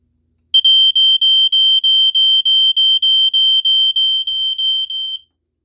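A Fyrnetics Lifesaver F-900D second-generation smoke detector sounds its test alarm. It gives a piercing high tone in a run of about fourteen rapid, evenly spaced pulses that last roughly five seconds and are heard up close with no voices.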